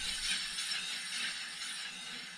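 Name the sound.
Renault Twingo 2 handbrake mechanism ratcheting noise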